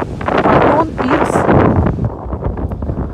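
Strong wind buffets the microphone at a seaside beach by a pier and coral reef at Makadi Bay, a loud continuous roar with gusts throughout, with faint voices underneath.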